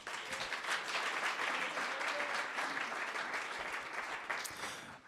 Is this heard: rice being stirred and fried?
no